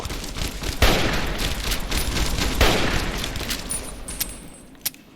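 Rapid gunfire in the video game Fallout: New Vegas, a dense burst of loud shots with a couple of sharper blasts, followed by a few scattered isolated shots near the end.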